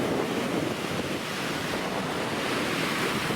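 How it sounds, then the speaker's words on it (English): Waves and surf wash continuously along a beach under smoky skies, a loud steady roar mixed with gusty wind buffeting the microphone. "Oh, here we are by the beach."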